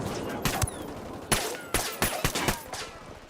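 Gunfire in the video game Ghost Recon Wildlands on Xbox: rapid, loud, sharp bursts in an irregular volley, crackling shots over a noisy outdoor game backdrop, with no talk.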